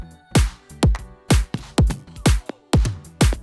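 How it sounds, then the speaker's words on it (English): Electronic drum pattern from a future bounce track, with punchy kicks and snappy hits landing in a steady rhythm, about seven strong beats, loud and close with no voices. "It has some drums."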